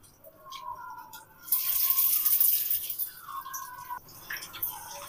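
Noodle kebabs lowered into hot oil start a sudden loud hiss of frying that swells, fades a little and then crackles on close by.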